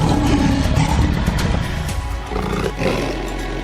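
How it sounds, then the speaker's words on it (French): Two male lions fight on the savanna, their deep, rasping roars loud and close, overlapping in a continuous snarling burst that eases slightly toward the end. "Tous deux s'engagent dans un combat acharné, leur rugissement résonnant dans la savane"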